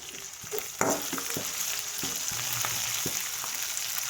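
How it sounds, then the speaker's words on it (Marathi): Masala paste sautéing in a pan for aloo matar bhaji, a continuous close sizzle with scattered scrapes and taps of a spoon stirring, no voices. "पेस्ट चांगले परतून घ्यायला आपण अशा प्रकारे"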